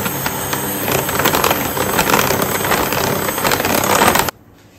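An electric mixer whirs loudly and steadily as it beats muffin batter, then abruptly switches off near the end.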